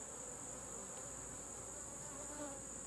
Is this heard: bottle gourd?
no